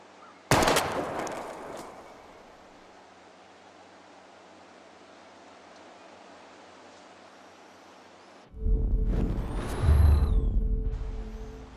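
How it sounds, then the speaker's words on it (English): A single loud, sharp gunshot cracks out near the start during bottle target practice in Life is Strange Remastered, followed by a steady hiss, then a heavier low rumble later on. "We're gonna shoot all these bottles without wasting a single bullet."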